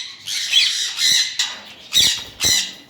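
Sun conure parrots squawking at a bird farm, a series of loud, harsh, shrill calls in short bursts, about five in under three seconds, close by with no talking.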